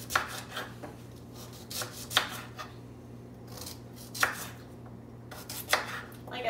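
Knife chopping potatoes on a cutting board for oven-fried breakfast potatoes, a few sharp separated chops spaced irregularly over a steady low kitchen hum.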